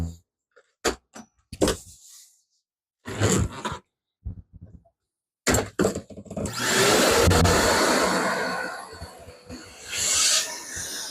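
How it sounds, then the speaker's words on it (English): A shop vacuum roars to life in a woodworking workshop, steadily sucking up wood debris beside a table saw fence; it runs loud and close for several seconds after a stretch of brief knocks and clatter. "I'm going to vacuum up some of that debris."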